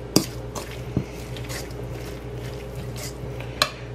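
Crumbled cottage cheese being stirred in a bowl for a tomato salad, faint soft squishing with a few sharp clinks of a utensil against the dish, quiet and intermittent.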